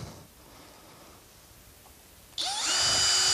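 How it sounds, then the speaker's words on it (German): A power screwdriver starts up abruptly after a quiet pause and runs steadily with a high whine as it drives screws to fasten a roof window during a roof renovation. "Also nehmen wir erstmal 4 Schrauben und befestigen das Fenster"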